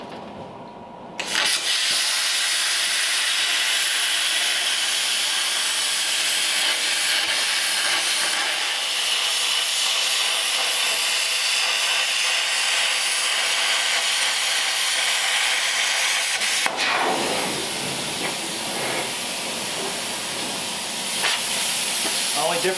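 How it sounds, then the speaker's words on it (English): A plasma cutter trims sheet metal on a 1933 Ford three-window coupe being fitted with an Ardun OHV flathead, giving a loud, steady close-up hiss that starts abruptly, runs unbroken for about fifteen seconds, cuts off, then resumes. "we got to do a little more trimming with the plasma cutter here"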